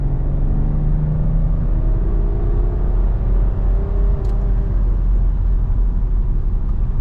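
A 2009 BMW 335d diesel with a stage 1 tune accelerating, heard from inside as a loud, steady low rumble with engine tones rising and falling through the run, no talking.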